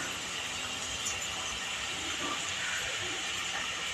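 Asafoetida (hing) drops into hot tempering oil with curry leaves for matar poha, giving a steady, soft, broadband sizzle that holds evenly throughout without pause, with no voices present.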